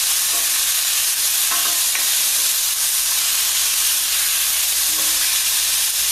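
Small salmon pieces frying in a pan, sizzling and hissing steadily up close while being stirred, the spoon scraping faintly every so often under the constant fry.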